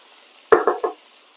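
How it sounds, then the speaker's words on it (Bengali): Ginger and chopped tomato hit a hot pan in a Bengali kitchen, giving three quick close scrapes and sizzling bursts while being stirred, each fading fast into a quiet background hiss. "আদাটাকে একটু ভালো করে ভেজে নেব, তারপর অন্যান্য মশলা দেব।"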